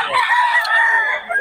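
A Sweater gamefowl rooster crows up close, one sustained loud call filling the whole moment with no talking over it.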